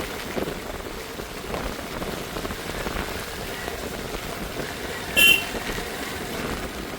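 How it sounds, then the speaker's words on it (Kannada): Heavy rain pours steadily at an off-road hilltop viewpoint, a dense constant hiss of drops on surfaces with a brief sharp tone partway through. "ಮಳೆ ಜೋರ ಆಯ್ತು ಓಡೋಣ."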